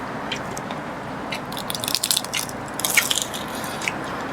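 Someone bites into an Ilocos empanada at an eatery in Lubao, making soft crunchy, squishy chewing sounds. They are scattered over a steady hiss of background noise with no talking.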